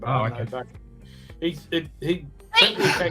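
A sneeze bursts out at the end, sharp and close, after a stretch of casual conversation at a pub.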